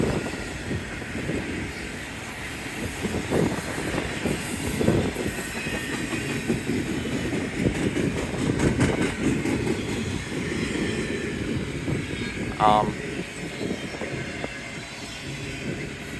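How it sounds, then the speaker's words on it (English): A BNSF westbound intermodal freight train in Kingman, Arizona rolls past at low speed as it slows, a steady close rumble of cars with faint clickety-clack and a brief wheel squeal near the end. "This train's slowing, going pretty slow now,"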